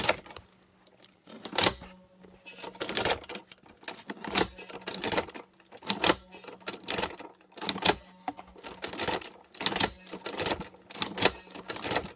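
Sewing machine stitching leather, double-stitching across the top of a custom piece: bursts of rapid mechanical clatter in short runs separated by pauses, close and fairly quiet.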